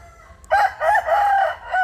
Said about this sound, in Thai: พวกนี้เป็นไก่เหลี่ยมนะครับ